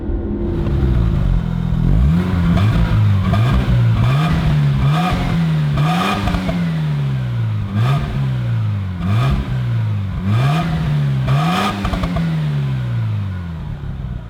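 An original Mazda RX-7 with a rotary engine drives and revs hard, its loud buzzing engine note climbing repeatedly through the gears with clattering shifts between pulls, close and continuous.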